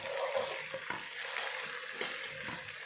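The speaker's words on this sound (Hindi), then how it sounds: "इसे हमने मिक्स कर लिया" Ginger being stirred into curry in a pan, with steady sizzling frying and scraping stir strokes at close range, no voices.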